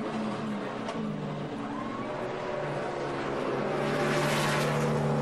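A NASCAR race car at Watkins Glen during the 2011 Zippo 200 pulls into its pit stop, its engine droning and revving over the ambient track noise, which swells toward the end.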